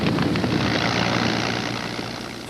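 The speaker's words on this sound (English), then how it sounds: "Spitfires and Hurricanes rise like hornets to meet the invaders." Spitfire and Hurricane fighter planes in flight, a dense roaring drone of propeller engines that holds steady and then slowly fades, loud and unbroken with no talk over it.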